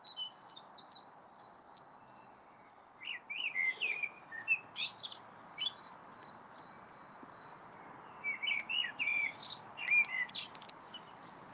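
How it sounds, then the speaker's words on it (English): Small birds chirp and tweet in short bursts over a soft, steady background hiss, calls coming and going at a moderate distance. "Can you hear the birds singing?"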